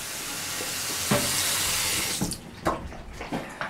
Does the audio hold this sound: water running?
yes